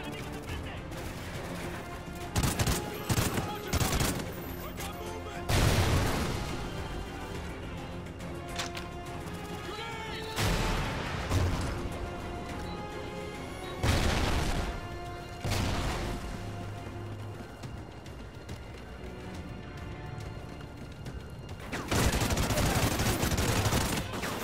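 Sustained gunfire in the Call of Duty Ghosts video game, loud and continuous, with heavy bursts rising repeatedly over a dense battle background.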